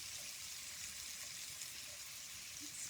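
Chopped onion goes into a hot frying pan, giving a soft, even sizzling hiss that holds steady throughout at a low volume.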